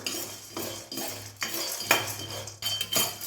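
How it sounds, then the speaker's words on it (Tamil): Whole gram being dry-roasted in a pan for a quick chutney, stirred with a metal utensil in repeated scraping, rattling strokes roughly every half second, close and clear with no talking. "முழு கடலையை சேர்த்துக்கிட்டேன் சேர்த்துட்டு நல்லாவே வறுத்து விட்டுக்கலாம்"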